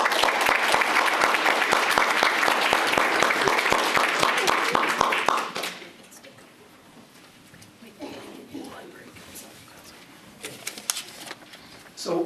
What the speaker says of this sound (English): So one more round of applause for all of the award recipients.